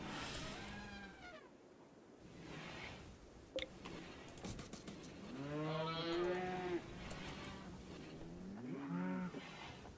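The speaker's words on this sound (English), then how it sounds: "you've got cows and elephants and buffalo making noises" Cattle mooing in the video game RimWorld, several drawn-out, wavering bellows in turn at close range, with a brief click between them.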